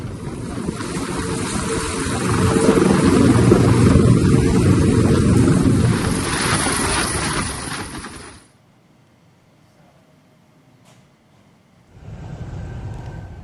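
Loud whirring helicopter rotor and engine roar during an aid drop in Bener Meriah, swelling then cutting off, followed by near silence before the engine noise returns.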